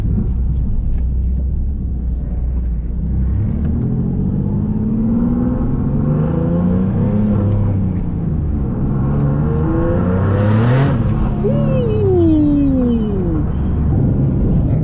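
A single-turbo Nissan 370Z Nismo revs hard outdoors, its engine note climbing steadily to a loud peak with a turbo whoosh, then falling away with a descending whistle.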